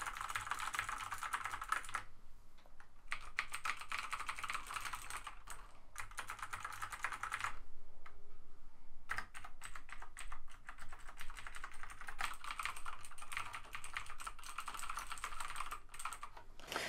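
Rapid clicky typing on a Razer BlackWidow Ultimate 2014 mechanical keyboard, steady bursts of sharp keystrokes broken by a few short pauses, close-miked and fairly quiet.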